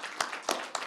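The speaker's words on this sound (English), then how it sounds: "Applause for them." A handful of sharp, separate hand claps ring out briefly from an audience at an international forum on European Ukraine, sparse rather than a full round of applause.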